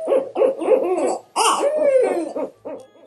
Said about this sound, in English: if you were another owl hearing that spine-freezing madness, wouldn't you at least consider the wisdom of leaving them alone?